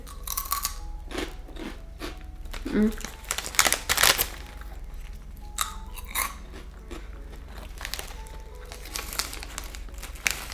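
A crunchy shrimp-flavoured Japanese biscuit is bitten and chewed close to the mic, giving crisp crunches and crinkling wrapper sounds with a voice talking over them.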